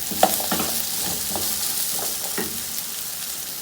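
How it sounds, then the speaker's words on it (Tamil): Potatoes stir-fried in a pan over a high flame, a steady close sizzle broken by several light scraping stirs and clinks of the spatula, with no talking. "இப்போ இது ஹை ஃப்ளேமில் நல்லா பெரட்டி விட்டுக்குவோம்."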